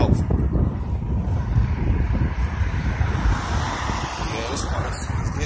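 Continuous low rumbling wind buffeting a microphone, steady and loud throughout with gusty roaring in the low end.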